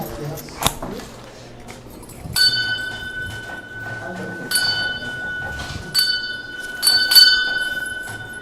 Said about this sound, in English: So Uno ask the questions, and Carol will ring the bell.